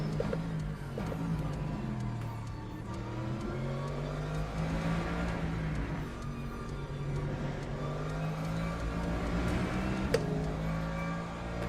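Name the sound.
GT3 race car engines in Le Mans Ultimate video game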